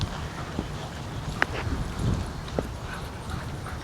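Dogs play near a horse outdoors during lariat groundwork, giving a few short yips and thumps at moderate distance over steady wind and background noise, with no speech.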